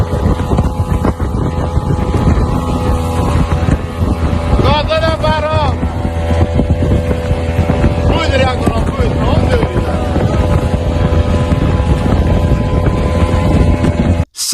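A US attack helicopter patrols near Iranian islands, heard as a loud, continuous rotor and engine drone with wind buffeting. Brief voices break in twice over the noise.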